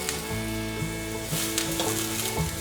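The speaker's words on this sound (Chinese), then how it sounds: "把蘑菇炒软。" Mushrooms stir-fry in a pan after ginger slices have been fried in it, giving a steady, close sizzle with a few soft scrapes from stirring and no talking.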